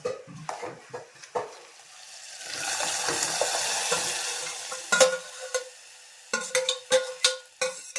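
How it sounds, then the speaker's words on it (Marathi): Spices tempering in hot oil, a sizzling hiss that swells and fades, surrounded by sharp clinks and scrapes of a spoon against a pan. "आता बाकीच्या फोडण्या घालून घेते पटकन"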